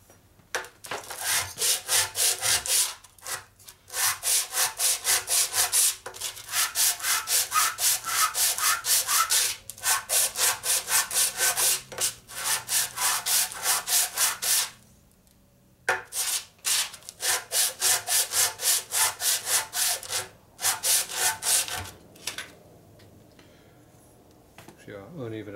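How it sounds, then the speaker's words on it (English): Rhythmic, loud back-and-forth hand sanding with sandpaper on a 1958 Harley panhead engine's top end, in long rapid bursts with short pauses between strokes. "but it's still mainly just sanding it off."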